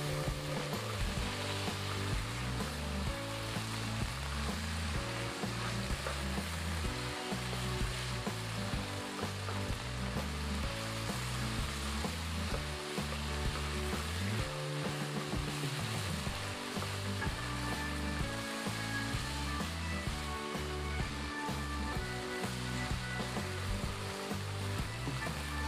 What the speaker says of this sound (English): Stir until all the pieces are coated with the sauce.